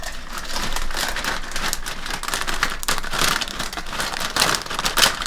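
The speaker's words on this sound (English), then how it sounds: "Pour some more pork rinds in." Pork rinds tumble out of a freshly cut bag in a dense, continuous crinkly rustle, close and steady for several seconds, with small crackling bursts throughout.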